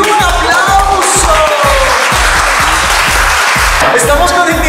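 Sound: applause

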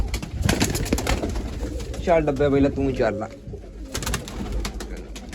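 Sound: pigeons cooing in the coop

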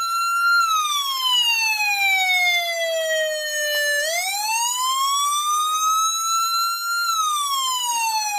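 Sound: emergency alarm siren

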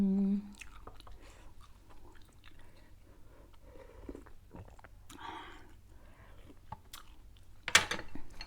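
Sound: chewing Vietnamese pork sausage (mu yo)

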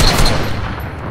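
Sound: gunshot in a shooter video game

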